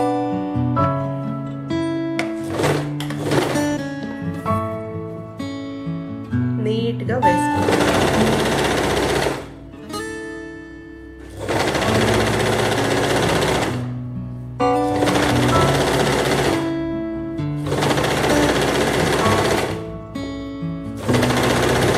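A sewing machine runs stitches along a fold on an A-line frock, loud rapid whirring in several bursts separated by brief pauses.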